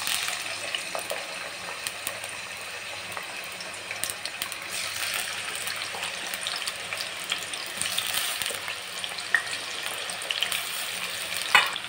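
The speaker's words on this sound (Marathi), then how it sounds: "आता तेल गरम झालं का आपण पहिले त्याच्यात कोबी टाकून घेणार आहोत" Cabbage fries in hot oil for homemade spicy Schezwan chutney, producing a loud, steady crackling sizzle with scattered spatula scrapes and stirring clatter close by and no talking.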